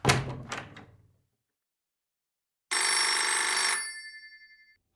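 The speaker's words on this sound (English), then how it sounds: "Fred, the telephone's ringing" An old radio-show telephone bell rings in a loud metallic burst lasting about a second, preceded by a couple of knocking thuds, then fades with a ringing tail into silence.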